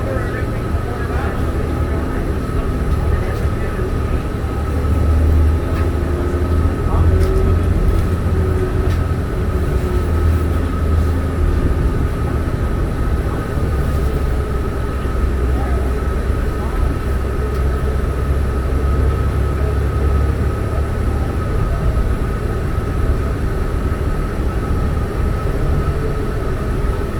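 A diesel NFI D40LF city bus on route 12, ridden on a cold early morning before fully warming up, gives a steady low engine rumble and road roar heard from inside throughout, with a voice talking now and then over it.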